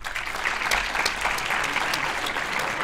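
Audience applause at a CEDA debate awards ceremony, a steady crowd of clapping hands held at an even level for a few seconds with no voices over it.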